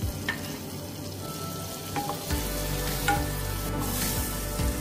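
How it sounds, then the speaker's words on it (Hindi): Garlic sautés in 1 to 2 tablespoons of butter in a pan, a steady close sizzle and fry with a few soft stirring clicks and scrapes, no voices. "फिर एक पैन में हम 1 to 2 टेबलस्पून बटर लेके गार्लिक ऐड कर देंगे।"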